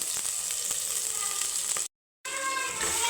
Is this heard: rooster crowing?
no